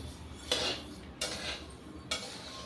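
Spices dry-roasting in a pan for homemade chutney, stirred with a metal spoon: three separate, quiet metallic scrapes and clinks against the pan over a soft background.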